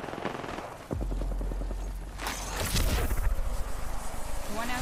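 Gunfire in the video game Predator, rapid bursts of shots that intensify after the first second, with a louder cluster of blasts midway and continued firing near the end, voices talking quietly beneath.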